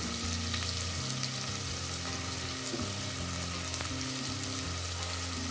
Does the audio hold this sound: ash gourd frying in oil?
yes